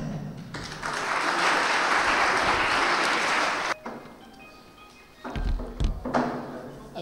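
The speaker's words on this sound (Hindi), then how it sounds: "आपकी भरपूर तालियों में मुमताज़ सहाफ़ी जनाब शिरीनज़ादा साहब।" A burst of applause from a crowd at an award ceremony fills the first few seconds, then stops abruptly, followed by a few scattered thumps and knocks.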